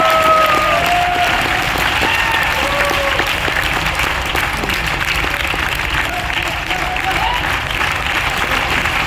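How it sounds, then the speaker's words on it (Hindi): Loud, dense audience applause fills a hall at a motivational business academy gathering, a steady wall of many hands clapping with faint crowd voices mixed underneath. "एक बार उनके लिए कैसी आप जोरदार बूटिंग तालियां आप बजा सकते हैं।"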